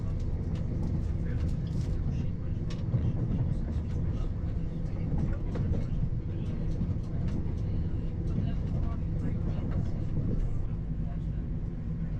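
Steady rumble and rattle inside a moving Iarnród Éireann train carriage on the Dublin to Westport line, with continuous low-frequency noise and faint background chatter throughout.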